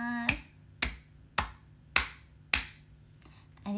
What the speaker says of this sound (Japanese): 手のひら全部を使って拍手しました